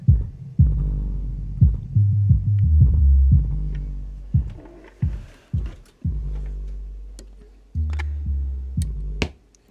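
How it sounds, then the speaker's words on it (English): Low, booming bass thumps with port chuffing from speakers driven by an Arylic 100-watt subwoofer amplifier board, coming in a loose series of about a dozen punchy hits and sustained throbs, up close with no talking. "You can hear some chuffing from the port."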